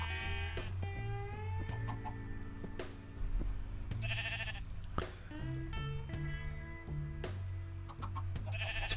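Chickens cluck and sheep bleat one after another in Minecraft over a low steady background, the animal calls popping up in short bursts.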